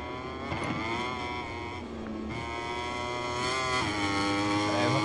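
Motorcycle racing in the video game MotoGP 23 at Termas: engines wail at high pitch, shifting and rising as bikes accelerate, loud and continuous.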